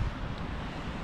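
Gusty wind blows up to 70 km/h on a cold June day in Sweden, heard as a steady, rushing broadband roar buffeting the microphone, close and fairly loud, without speech.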